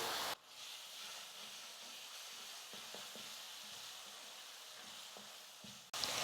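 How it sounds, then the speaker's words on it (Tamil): Onions with ginger garlic paste sauté in a hot pan for channa masala, giving a steady, close sizzling hiss with faint stirring scrapes throughout. "இஞ்சி பூண்டு விழுது சேர்த்துட்டு 1 நிமிஷம் நல்லா வதக்குனதுக்கப்புறமா"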